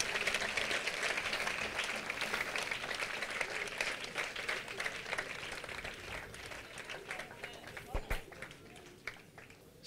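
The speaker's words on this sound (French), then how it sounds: "Yes, clap, clap loudly." A congregation at a church intercession gathering claps loudly in a dense, sustained burst of applause, with speech heard over it.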